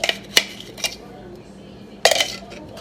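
A spoon clinks against a bowl while marinated prawns are mixed for a Kerala-style prawn roast: a few sharp, close knocks early on, then a quick cluster of clatters after a short pause, with no talk.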